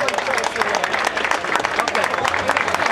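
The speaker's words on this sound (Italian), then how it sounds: "Dalla piazza di Terranova di Pollino si leva l'applauso per Domenico Pozzovivo!" A crowd in the town square of Terranova di Pollino applauds a cyclist at the Pollino Marathon, brisk and continuous clapping with crowd noise mixed in, loud and close throughout.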